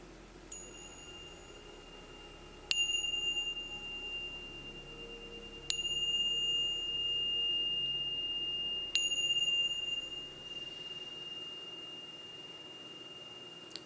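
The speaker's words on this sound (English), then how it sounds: "as you hear the bell, your invitation that we are returning back to the sense world" A meditation bell rings three separate times during a quiet church Sunday service, each a clear bright strike that lingers and slowly fades above a soft room hum.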